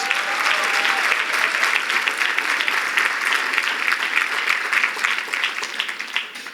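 Sustained applause at a gala, with the crowd clapping for elected officials; thick, even clapping that thins toward the end, with a brief whistle near the start.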